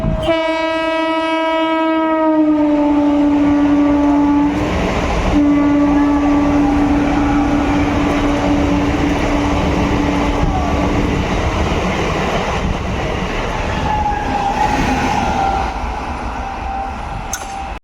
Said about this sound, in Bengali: সাইড দিয়ে বেরিয়ে যাচ্ছে একদম লালগোলা শিয়ালদা প্যাসেঞ্জার